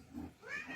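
A pet cat gives a single soft, rising meow, faint and brief, in a quiet home setting.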